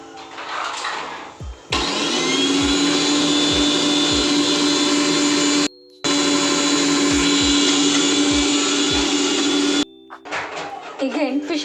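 Mixer grinder whirring loudly as it grinds spices with a little water for goat head curry, running in long steady bursts with a brief stop, with a voice speaking before and after.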